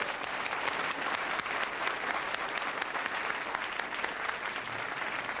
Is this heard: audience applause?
yes